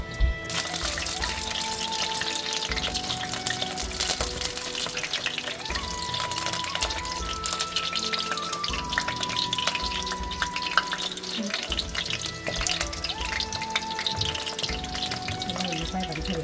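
Onions fry in about two ladles of oil for Telangana fish pulusu, a continuous close sizzle and crackle with occasional stirring clinks, beneath a voice speaking throughout.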